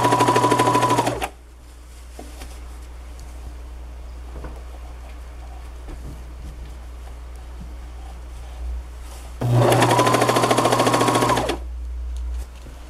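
A sewing machine runs in two loud bursts of fast, steady stitching through four layers of hoodie fabric, including the pocket lining, with a quiet pause between.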